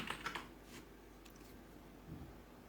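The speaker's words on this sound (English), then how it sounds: "open your terminal and type sudo natilus and type in your password" A password being typed on a computer keyboard, a quick burst of close key clicks at the start followed by a few scattered faint taps.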